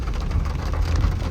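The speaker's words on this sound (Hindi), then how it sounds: "बारिश तो अभी भी कंटिन्यू हो रही है" Steady rain patters and hisses in a dense, continuous wash, with a low rumble underneath, during a night drive on National Highway 169A in India.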